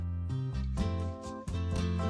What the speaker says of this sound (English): That is the sound of slow, soothing music that supermarkets often play.